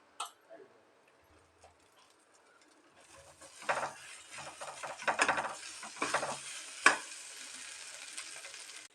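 Masala egg being chopped and stir-fried with rice in a pan, faint at first, then steady sizzling with repeated scraping and tapping of the spatula, one sharp clack near the end.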